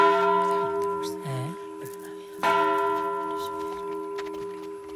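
A bell in a comedy film scene is struck twice, each strike ringing out with bright, lingering overtones that slowly fade, while voices murmur between the strikes.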